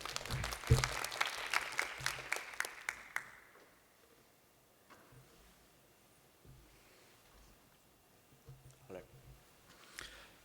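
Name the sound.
audience applause at a conference talk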